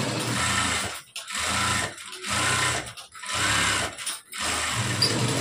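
A sewing machine stitches blouse fabric in short runs of rapid, steady mechanical whirring, stopping and restarting about four times with brief pauses between bursts, close and clear.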